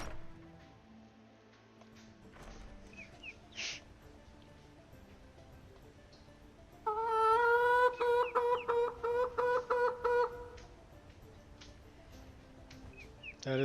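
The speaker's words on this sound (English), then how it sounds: "That is a very loud bird." A loud bird call in a fantasy video game, a rapid series of harmonic chirps repeating in quick pulses for about three seconds amid quieter ambient game sounds, with occasional softer chirps before and after.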